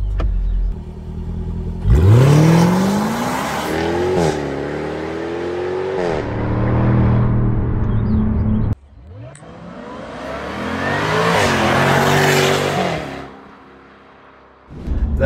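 A supercar in sport sequential mode accelerates hard on a French highway, engine climbing through gears with loud revving sweeps and brief drops at shifts, close and sustained, no talk.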